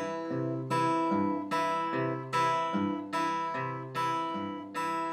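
Travis picking on guitar, the thumb plucking the fourth string as the ring finger plucks the first, an evenly paced, close pattern of bright plucked notes ringing over bass notes, with no voices.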